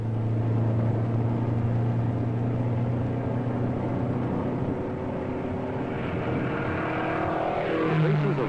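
A Ford Mustang I prototype research sports car's engine drones steadily and close, its tone rising and shifting near the end as the car accelerates past during testing, with no talking.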